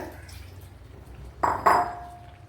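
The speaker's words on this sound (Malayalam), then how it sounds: "അതുപോലെ കുറച്ചുകൂടെ വെള്ളം ഒഴിച്ചു കൊടുക്കുക" Water poured into a pot of ash gourd curry, a short splashing burst with a clink of the pot, about half a second long, after quiet kitchen background.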